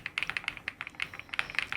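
Steady typing on an Epomaker Galaxy100 mechanical keyboard: a dense, uneven patter of sharp close-up key clacks with a brief lull in the middle, no talking.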